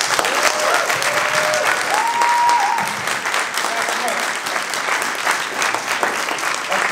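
Convention crowd at New York Comic Con applauding with scattered cheers and whoops, a dense continuous wash of clapping that stays loud throughout, with a few voices poking through.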